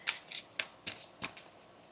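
Tarot cards are shuffled by hand in five or six quick, soft riffling bursts, close and quiet, with no talk.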